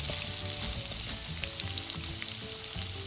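Cauliflower, potato and peas sizzle steadily in hot oil, a constant crackling hiss with occasional faint stirring, close and quiet, with no talking.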